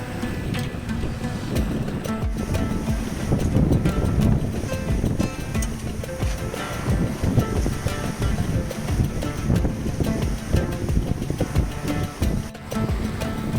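A sailboat with fresh antifouling sails at sea past Pula in a light bora wind, making about six knots, with continuous loud wind buffeting and rushing water noise throughout.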